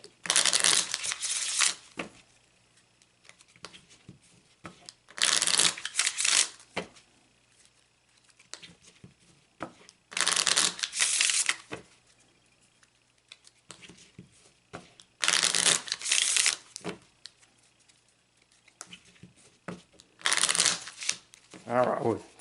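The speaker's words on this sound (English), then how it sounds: "And I'm shuffling the cards," A deck of Lenormand cards is shuffled by hand in five crisp, rapid bursts of riffling and flicking, each lasting a second or two, separated by quiet pauses with soft voice murmurs underneath.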